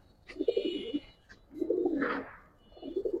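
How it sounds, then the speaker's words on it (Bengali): A female Giribaz pigeon coos close by in low, throaty bursts, three rolling phrases separated by short pauses. "অনেকদিন পর কোনো মাদি কবুতর এভাবে ডাকতে দেখলাম"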